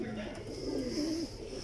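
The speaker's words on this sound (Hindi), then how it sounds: "और लाहौर के जो ओरिजिनल कबूतर हैं दोस्तों वो ये हैं, बड़े शानदार कबूतर हैं" Original Lahore breed pigeons coo softly nearby, a low, rolling coo that swells and fades over under two seconds against a quiet background.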